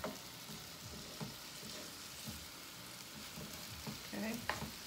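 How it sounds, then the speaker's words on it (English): Short ribs browning in a pan, a quiet steady sizzle with occasional soft scrapes and shifts as the meat is moved, close but faint, with no talk. "We're not cooking them, we're just browning them."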